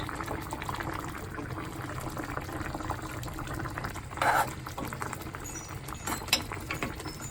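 An egg masala curry simmers in a pot on the stove, giving a soft continuous bubbling with a couple of brief louder pops, quiet and close.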